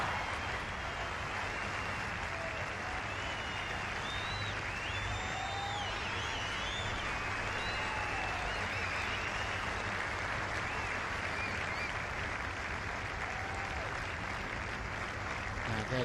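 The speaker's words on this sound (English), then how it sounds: "Now that is applause and appreciation" Broad crowd applause from golf spectators at The Open 2016, steady and somewhat distant, with a few whistles rising above the continuous clapping.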